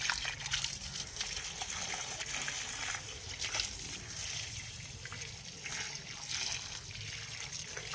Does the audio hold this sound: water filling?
yes